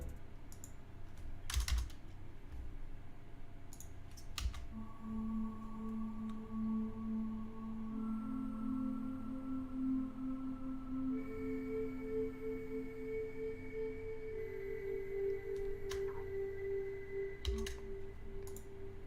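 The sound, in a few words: Omnisphere synth pad, Wheezing Fairlight preset, with strings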